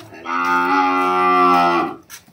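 A young Andhara bull calf lets out one long, loud, close moo lasting nearly two seconds, followed by a short rustle.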